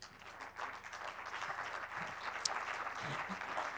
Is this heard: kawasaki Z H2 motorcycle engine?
no